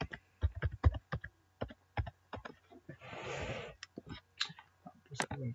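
A password is typed on a computer keyboard with sparse, uneven key clicks in quick clusters, heard up close, with a short soft rushing noise partway through.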